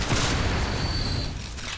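Shotgun blasts fire in the video game Bloodborne, a rapid cluster of heavy booming shots at close range, followed by a ringing decay.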